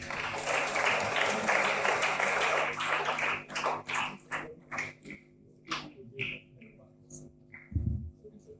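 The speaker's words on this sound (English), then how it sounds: "Can you give me a round of applause?" Applause from attendees at a virtual school alumni meetup, a burst of clapping over the first few seconds thinning into scattered separate claps, with some background noise.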